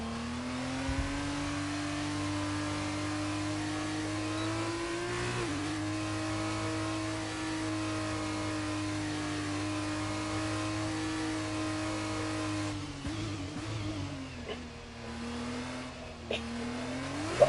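A race car engine in Project Gotham Racing, an F2 event at an Australian track, drones steadily at a sustained mid pitch, then the revs dip and climb again near the end. It plays alone, with no talk over it.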